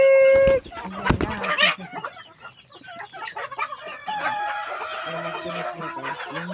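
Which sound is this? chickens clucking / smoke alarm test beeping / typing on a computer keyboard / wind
chickens clucking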